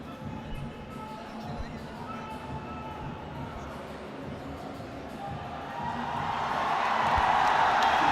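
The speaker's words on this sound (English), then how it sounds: "And the crowd gets loud and roaring" Spectators at an MFN 14 main-event MMA fight fill the arena with a low, steady murmur that swells into a loud, rising roar over the last couple of seconds.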